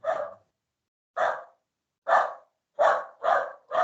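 A dog barks in short sharp bursts, six barks with the last few coming faster, fairly close and alone with no talk.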